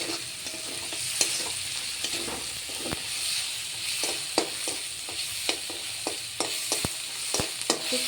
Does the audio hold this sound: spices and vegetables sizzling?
yes